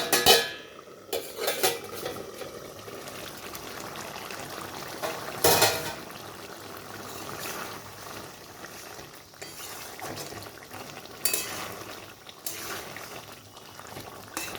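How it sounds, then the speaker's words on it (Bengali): A lid comes off a pot of simmering prawn curry with cauliflower and potato, giving a couple of metallic clanks against a soft, steady bubbling and the light clatter of utensils. "এখানে চাপাটা নামিয়ে নিচ্ছি।"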